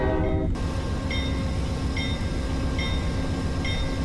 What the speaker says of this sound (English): we'll go ahead and knock all the brakes off and start pulling